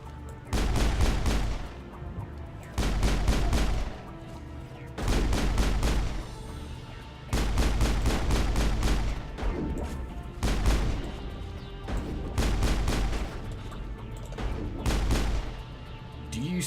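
Enemy gunfire in Mass Effect comes in repeated loud bursts of rapid shots, each lasting about a second with short pauses between, close and forceful throughout.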